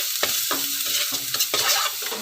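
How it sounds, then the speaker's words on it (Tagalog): Garlic sautéing in oil in a home kitchen pan, a bright continuous sizzle broken by several quick scraping stirs, close and loud with no talking. "Igisa na ang bawang."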